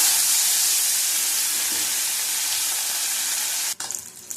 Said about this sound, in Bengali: দেখো মাছটা হয়ে গেছে ভাজা